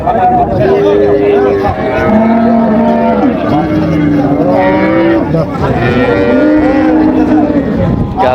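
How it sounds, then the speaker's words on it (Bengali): Several cows at a cattle market in Raniganj, Dinajpur, mooing loudly one after another, long drawn-out lowing calls close by, with faint background noise. "গাভী"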